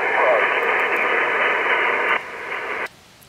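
A weak amateur radio station buried in static on a portable outdoor activation, heard as a loud band of hissing noise with a faint garbled voice inside that cuts off in two steps near the end.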